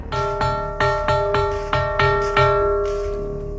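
A hollow-sounding boulder struck with a stone gives off a bell-like metallic ring: about seven clear, evenly spaced strikes, close and fairly loud, each leaving a sustained resonant tone that overlaps the next, with no talking.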